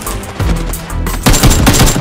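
Rapid video game gunfire, shotgun blasts among it, cracks out in dense bursts, loud and close, with a short lull before a heavier volley.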